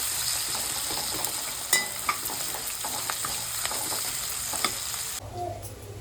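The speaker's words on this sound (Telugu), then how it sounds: "ఇవి కూడా బాగా ఎర్రగా ఫ్రై అయ్యే వరకు అయితే పక్కకైతే ఫ్రై కమ్ముతానండి ఆనియన్స్కి" Sliced onions and green chillies fry in hot oil, giving a steady loud sizzle with small crackles and occasional utensil taps, before it cuts off into quieter room sound near the end.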